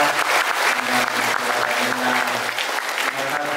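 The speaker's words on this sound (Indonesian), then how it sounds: "Kita tepuk tangan untuk anak-anak kita." An audience applauds children at a name-day and birthday celebration of a Catholic seniors' association, a steady wash of clapping throughout with a faint voice underneath.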